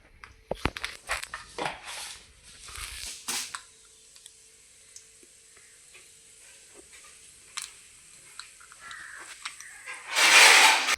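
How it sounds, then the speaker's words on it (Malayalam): Mustard seeds popping in hot oil in a covered pan give sharp, scattered cracks. They come thick at first, thin out to sparse faint ticks, and end in a louder sizzling burst. "കടുക് പൊട്ടി വെളിയിലോട്ട് തെറിക്കാതിരിക്കാൻ ഒരു പാത്രം വെച്ച് അടച്ചു വെക്കുന്നു"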